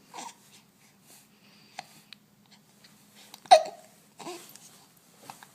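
A baby's hiccups mixed with soft babbling and small fussy sounds, scattered over several seconds, close and fairly quiet, with one stronger hiccup near the middle.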